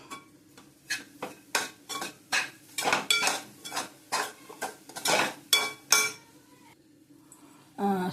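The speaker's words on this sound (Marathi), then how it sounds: "थोडा गूळ टाकायचा, हलवून घ्यायचं चांगलं." Roasted coconut and jaggery are stirred in a metal pan, a spoon scraping and clinking against the pan in a steady series of close, sharp strokes with no talking.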